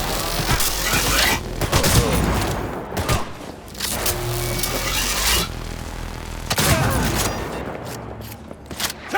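Heavy shotgun blasts from a first-person shooter, including a full-charge weapon that fires through enemies and walls, booming in dense overlapping bursts amid chaotic battle noise and scattered thuds throughout.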